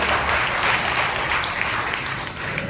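A congregation at a Telugu Baptist church Sunday worship service claps together in a steady, dense round of applause that fills the room without pause.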